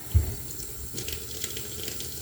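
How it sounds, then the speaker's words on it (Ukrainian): Tap water runs in a steady stream, splashing close by in a sink without pause, as chicken gizzards are rinsed. "Ми добре-добре вимиваємо проточною водою"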